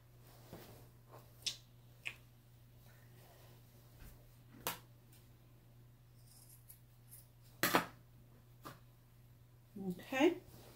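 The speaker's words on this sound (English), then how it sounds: "I'm just going to trim the excess fabric off those corners." Scissors snipping excess fabric off the corners of a tote bag, a handful of separate short crisp cuts scattered over several seconds, close and quiet against a faint hum.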